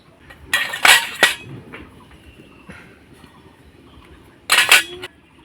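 Small bowls clink against each other while being greased with white oil for a light breakfast of flattened rice and semolina, with a quick cluster of sharp ceramic taps at the start and another pair near the end, and quiet in between.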